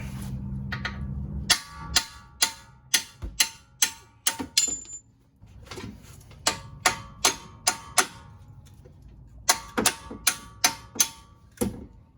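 Sharp metallic hammer blows knocking out strut bolts on the front driver side of a 2010 GMC Acadia, about twenty ringing strikes in irregular bursts, close and loud.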